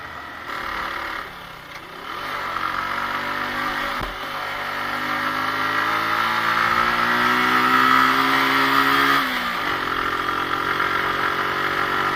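A motorbike carrying two riders descends a steep mountain road from Dim Pahar toward Thanchi, held in low gear with heavy braking, its engine droning near and loud, the pitch climbing steadily before dropping back.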